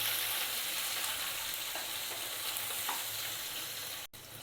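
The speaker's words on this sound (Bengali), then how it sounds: "টমেটোটা তেলেতে একটু নাড়াচাড়া করে নেব" Chopped tomato sizzles and fries in hot oil for a black chicken curry, a steady dense hiss with faint stirring scrapes throughout, close and continuous, with a brief dropout near the end.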